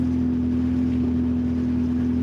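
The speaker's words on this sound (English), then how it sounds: "It's a hole coming out of the manifold. You hear it?" A car engine idling with a leaking exhaust manifold gives a steady, loud, droning hum with a strong low tone and a constant rough rumble, heard close up and alone throughout.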